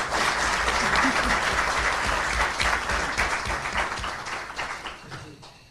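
An audience at a parliamentary anniversary event in the UK applauding loudly and steadily, the dense clapping fading gradually toward the end.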